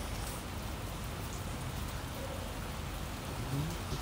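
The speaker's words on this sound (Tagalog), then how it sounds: "It's raining dito sa amin." Steady rain falls outdoors, a dense, even hiss of drops hitting surfaces that holds constant throughout.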